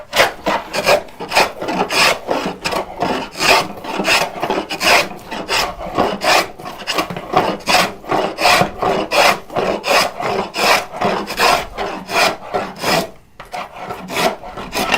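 Hand saw cutting through oak lumber in steady, rhythmic back-and-forth strokes, each stroke a close, loud rasp, continuing without pause throughout with a brief gap near the end.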